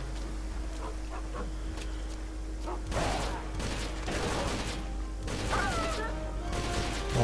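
Shotgun blasts and gunfire in the Avatar game, several sharp bursts and impacts in a busy, loud game mix with a steady low hum underneath.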